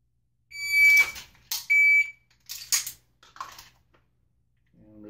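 A shot timer for dry-fire draw practice gives sharp electronic beeps marking a 1.2 second par time, a start tone followed shortly by a second tone, with a few soft handling sounds between them.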